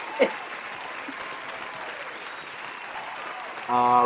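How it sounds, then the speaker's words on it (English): Steady applause fills the clip, a crowd clapping continuously at moderate volume, with a brief tone rising near the end. "Let me give you a round of applause again."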